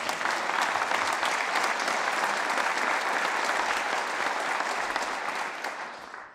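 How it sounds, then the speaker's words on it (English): Sustained applause from a large audience at a state of the state address, dense steady clapping that holds for several seconds before beginning to thin out at the end. "yes, you can clap for that."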